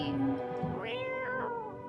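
A cat in the game No I Am Not A Human lets out a drawn-out, rising meow followed by a shorter second one, close and clear.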